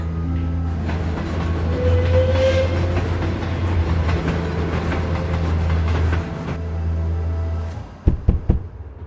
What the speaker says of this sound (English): Well, the train is about to depart.